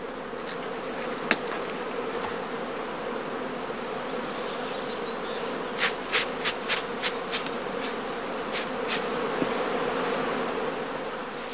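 A honey bee swarm buzzes around straw skep hives outdoors, a dense steady hum of many bees with a few sharp clicks and taps standing out partway through.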